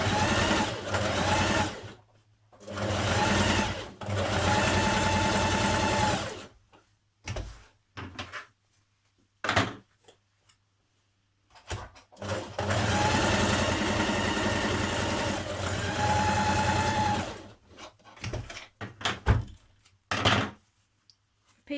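A sewing machine stitches trouser pockets in place on Simplicity 8056 trousers, running in several loud, steady bursts of rapid stitching separated by short quiet pauses and faint handling clicks.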